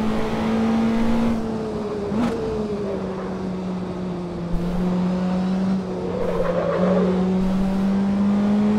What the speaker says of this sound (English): This Prague R1.